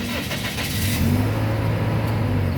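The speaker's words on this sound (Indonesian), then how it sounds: "Sekarang kita coba nyalakan mobil." A 2004 Toyota Kijang Innova 2.0 G automatic starts up: a short cranking burst catches into a steady engine hum, heard close and moderately loud.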